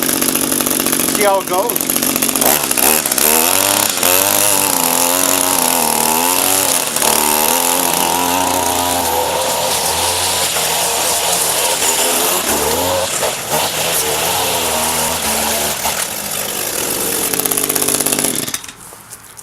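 An Echo string trimmer's small two-stroke engine fitted with a knock-off carburetor runs loudly and close on a bench, holding a buzzing idle with slight wavering, while someone speaks briefly over it.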